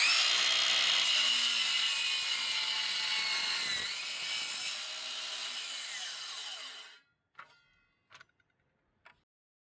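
A power saw cuts steadily through 22 mm wood, making 45-degree bevel cuts for a raised garden planter; the loud whine runs for about seven seconds, then stops abruptly, followed by a few brief knocks and clicks.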